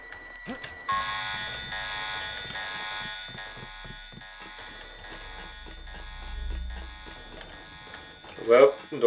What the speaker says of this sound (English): wait until the alarm's gone